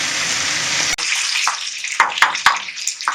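Chicken pieces fry in a pan for biryani, giving a steady loud hiss and sizzle that cuts off briefly, then resumes with several sharp spatters and crackles close by.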